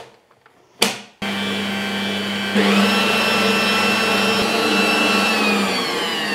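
An electric mixer beats eggs with sugar, switching on after a brief clatter and running as a loud, steady whine that rises in pitch midway when the speed increases, with no talking.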